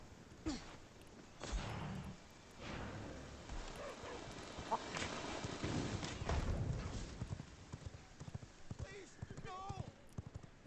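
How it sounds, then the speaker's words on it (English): Horse hooves gallop in the V Rising video game, a steady run of clip-clopping beats under ongoing game sounds and scattered noises. "This horse feels fast."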